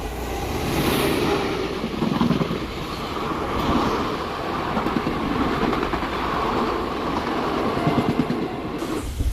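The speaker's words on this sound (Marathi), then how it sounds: "आता आपली ट्रेन जी आहे ती मनमाड स्टेशनला अराईव्ह होत आहे" The Nanded–Pune Express rolls into Manmad station, heard from inside a carriage by the window: a steady, close rumble of wheels and carriage noise with rhythmic rail clatter running throughout.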